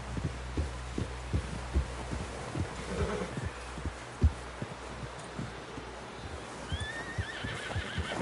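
In Red Dead Redemption 2, a horse's hooves thud in a steady, low clip-clop rhythm through snow, ending in a rising whinny near the end, heard alone without talk.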